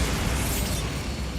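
A Bombarda spell explosion from the video game Hogwarts Legacy: one dense, sustained blast roars loudly and evenly for over a second with no voices.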